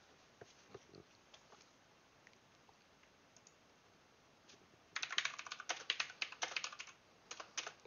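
Typing on a computer keyboard while writing a message to Steam support: sparse quiet key clicks at first, then a denser, louder burst of rapid keystrokes near the end.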